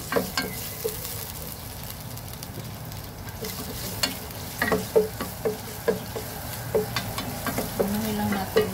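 Garlic and onion sizzle steadily in a frying pan outdoors, with scattered stirring clicks and scrapes punctuating the continuous fry.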